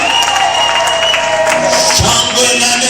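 A church congregation bursts into loud applause and cheering after a healing testimony, dense clapping with voices calling out throughout.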